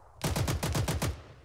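Video game Arma 3 gunfire: a rapid burst of about seven evenly spaced automatic shots, loud and close, ending abruptly.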